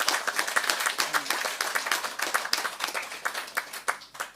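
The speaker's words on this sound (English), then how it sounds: "A round hand of applause to Mr." Audience at a municipal council meeting in Mossel Bay gives a round of applause for a long-serving staff member, a dense wash of clapping from a moderate-sized room that gradually thins toward the end.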